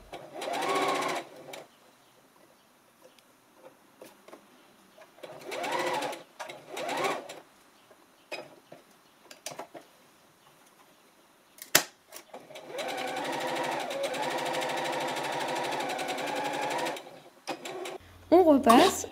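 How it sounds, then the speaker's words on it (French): Sewing machine stitching a facing strip onto a dress, several close rattling runs of steady stitching of varying length separated by pauses, the longest near the end, with someone talking in between. "On coud ensuite la bande de propreté."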